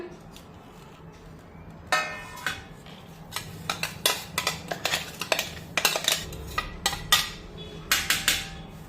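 Grated coconut scraped out of a vessel into a metal plate, heard as a close run of quick metallic taps, clinks and scrapes that grow busier and louder after a quieter start, with no talk.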